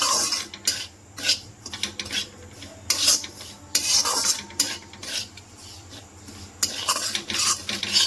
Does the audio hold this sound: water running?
no